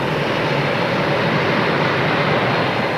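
Jet engines of a United Airlines airliner run at a steady, loud, broadband roar with no breaks, heard close as if from inside or beside the aircraft.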